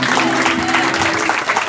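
A congregation claps at an evangelistic crusade church service: a brief, dense burst of applause at close range, with voices and a faint tonal hum running underneath.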